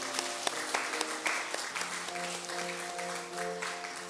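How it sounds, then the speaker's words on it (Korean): A church congregation applauds newly welcomed members during a Sunday worship service, steady moderate clapping from many hands with a faint voice or tone running underneath. "우리 박수로 다시 한번 이분들을 축하하겠습니다"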